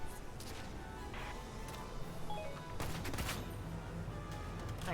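Gunfire in Valkyria Chronicles 4 pops in scattered volleys with sharp cracks and a heavier crash near the middle, all heard faintly and without talk.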